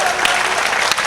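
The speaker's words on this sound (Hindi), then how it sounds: "एक बार जोरदार तालियां बजाओ।" Loud, continuous audience applause fills a Hindi comedy poetry show, dense clapping from a close crowd sustained throughout the brief moment.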